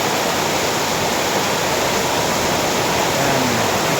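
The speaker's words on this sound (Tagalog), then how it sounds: "Parang binubuhos ang tubig." Torrential nighttime rain pouring down like pouring water, a loud, constant broadband roar with no pauses or gaps, heard close and without any talking.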